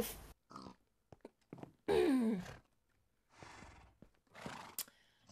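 A horse in a video game horse pen whinnies in one loud, sweeping call, surrounded by short snorts, huffs and sighs from the animals at close range.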